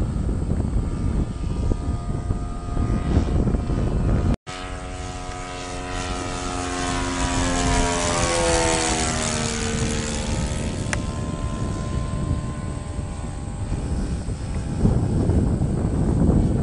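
A giant-scale Cessna 182 RC model airplane with a stock two-stroke-style muffler drones steadily overhead, its engine pitch sweeping as it passes by and then fading, continuous and moderately loud with wind noise and no talk.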